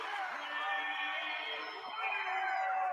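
A packed gym crowd at a girls' state basketball game roars after a corner three-pointer, a loud sustained wall of cheering and shrieks that holds steady for the whole stretch.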